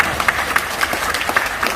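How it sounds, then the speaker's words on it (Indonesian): Scattered clapping from a small business-presentation audience honoring Pak Amari, a handful of hands striking in a loose, uneven rhythm, fairly close but thin and brief. "Tepuk tangan buat Pak Amari ya"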